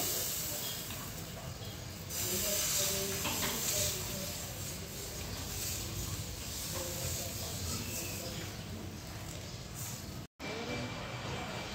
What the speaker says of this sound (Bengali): ফ্রাই প্যানে হালকা একটু তেল দিয়ে নিয়েছে।